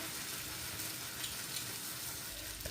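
Murukku dough pressed from a mould fries in hot oil with a steady, soft bubbling sizzle that stays even throughout, close and fairly quiet with no talk.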